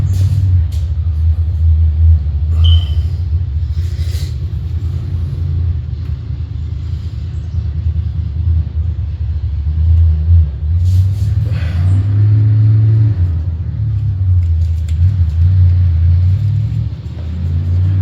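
A neighbor's motorcycle, a hog, rumbles with a deep, throaty idle that lasts throughout, rising in a few brief throttle blips as it pulls away, loud and close with faint clatter overhead.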